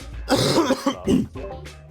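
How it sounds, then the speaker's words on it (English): A man recovering from pneumonia gives a couple of short, close, raspy coughs with some throat clearing in between, loud and alone. "Apologies if I cough as well."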